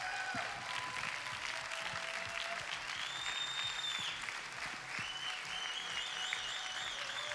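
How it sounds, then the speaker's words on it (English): A large church audience bursts into sustained applause and cheering for a couple married 63 or 64 years, a dense steady wash of clapping filling the whole stretch, with a few faint tonal sounds drifting above it. "64, you can clap again for that"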